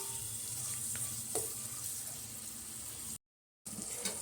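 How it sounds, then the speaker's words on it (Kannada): Vegetables for veg fried rice fry in hot oil with a steady, dense sizzle and a few stirring clinks and scrapes, close and continuous apart from a short break near the end. "ಸೊ ಇವಾಗ ತರಕಾರಿ ಎಲ್ಲ ಎಣ್ಣೆಲಿ ಚೆನ್ನಾಗಿ ಬೆಂದಿದೆ."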